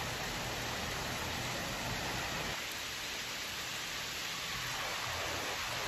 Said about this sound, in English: Oh my god, it's hail!